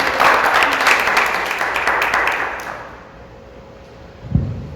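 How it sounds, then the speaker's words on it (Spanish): Loud applause fills a church congregation for the first few seconds, then fades into quiet room tone, with a single thump near the end. "Den un aplauso fuerte al Señor."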